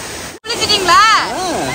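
A waterfall where people are bathing pours steady, broadband rushing water throughout, loud and close, while a voice talks over it.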